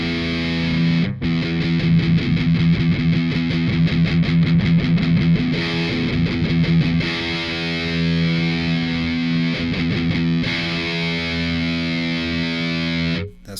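Electric guitar through a Master Effects Martyr distortion pedal plays sustained chords and riffs, loud and saturated with buzzing overdrive and scooped mids, continuous throughout with no voices.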